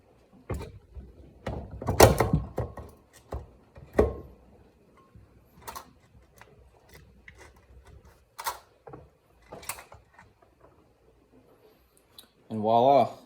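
Sharp metallic clunks and clicks sound as a cylinder head is worked loose from a 1999 Suzuki GSX-R 750 SRAD engine, with one heavy knock early, sparse taps after it and a brief voice at the end.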